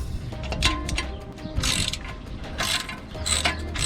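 Ratchet wrench working 12 mm bolts on a Honda Grom motorcycle exhaust, with rapid close pawl clicking in repeated bursts over a garage hum.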